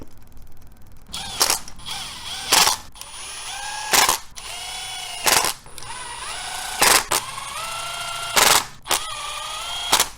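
A hand ratchet clicks in short bursts while bolts are tightened on an engine cover with a fresh gasket, each burst of rapid pawl clicks separated by pauses, close and clear with no talking.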